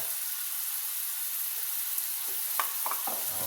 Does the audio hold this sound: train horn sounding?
no